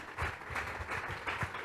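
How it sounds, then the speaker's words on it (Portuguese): A church congregation claps for Jesus during a worship service, a short burst of quiet, rhythmic clapping with faint overlapping sounds. "aplauda Jesus bem forte"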